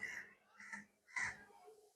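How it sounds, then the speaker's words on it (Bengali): Several crows caw in three loud, harsh calls spaced about half a second apart, close by under a darkening, cloudy sky as rain threatens. "এত কাক ছোটাছুটি করছে কেন?"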